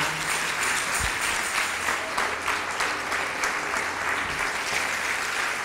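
A church congregation applauds, a dense and loud patter of many hands clapping steadily from start to finish, with a faint murmur of voices mixed in.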